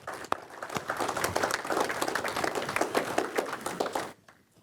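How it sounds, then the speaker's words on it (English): Veterans at a VetXpo keynote applaud themselves, a full room of steady clapping that swells after a sharp opening clap and then cuts off abruptly near the end, leaving quiet. "Give yourselves a round of applause."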